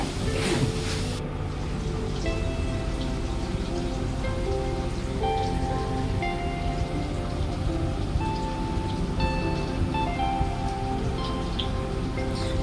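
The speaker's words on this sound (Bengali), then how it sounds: "এগুলোকে ভেজে নিতে হবে।" Soybean pieces coated in gram flour batter fry in hot oil, a loud dense crackling sizzle that stays steady throughout, with faint tonal clinks on top.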